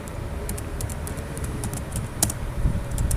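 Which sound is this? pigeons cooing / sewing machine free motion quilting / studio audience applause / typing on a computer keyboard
typing on a computer keyboard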